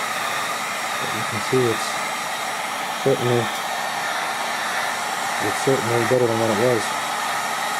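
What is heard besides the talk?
heat gun blowing on ATV plastic fender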